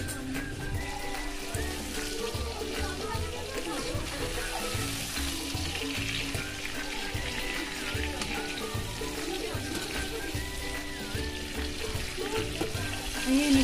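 Stuffed brinjals frying in a pan, making a soft, steady sizzle with faint watery bubbling and low background clatter, moderately quiet throughout.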